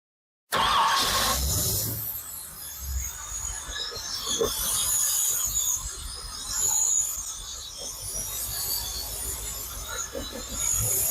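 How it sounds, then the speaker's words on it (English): A Ford FE engine in a Thunderbird, fitted with an Edelbrock Pro-Flo 4 injection system, idles roughly up close, its uneven running loud and constant with surging swells and some high-pitched hiss over the top. "we need to get past this kind of rough idling and running"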